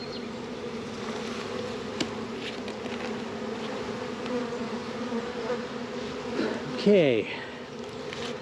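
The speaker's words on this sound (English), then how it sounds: "I'm going to try and grab you guys without pinching any bees." Honey bees swarming around a hive box outdoors, a dense continuous buzz close by with individual bees droning past, plus a brief spoken word near the end.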